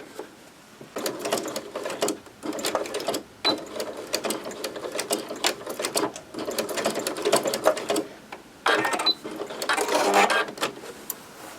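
A sewing machine stitches short tacking runs across the corners of a quilted to-go craft bag, its close, steady whir broken into bursts by brief pauses.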